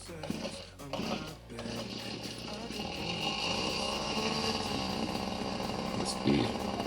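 Small two-stroke engine of a Midori MJ-182 earth auger running after a carburetor replacement, a buzzing, steady drone close by that rises after an initial sputter, with someone speaking briefly.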